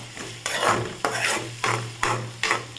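Onions sautéing in a pan for bitter gourd gravy give a low, steady sizzle, broken by five regular scraping strokes of a spoon, each about half a second apart, with no talking.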